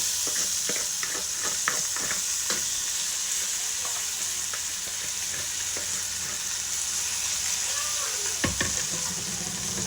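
Rice and vermicelli frying in a pan give a loud, continuous close-up sizzle, with repeated stirring scrapes and clicks from a utensil throughout.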